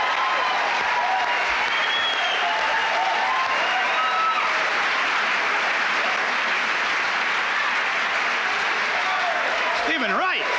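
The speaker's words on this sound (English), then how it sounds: "Let's have a nice round of applause for Mr." An audience at a 1980s stand-up comedy show breaks into loud, sustained applause for a comedian, a dense wash of clapping with some crowd noise that holds steady throughout.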